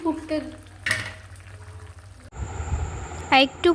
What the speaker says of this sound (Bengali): মা ভাজা মশলাটা দিয়ে দিল। তো মা নাড়াচাড়া করছে।